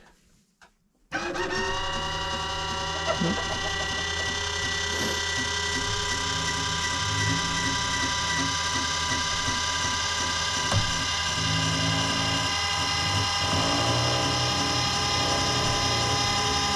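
A DIY automatic chicken coop door's linear actuator retracts, starting after a second of quiet and then running as a steady, loud mechanical drone with a ratchety, groaning grind that continues unchanged to the end.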